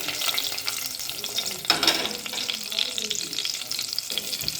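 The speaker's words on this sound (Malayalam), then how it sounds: "കുറച്ച് കറിവേപ്പിലേൻ്റെ കൂടെ ഒരു പച്ചമുളക് ചേർക്കുന്നുണ്ട്." Curry leaves and a green chili fry in hot oil in a pan, giving a steady, dense crackling sizzle with a louder burst partway through and occasional stirring, with no talk.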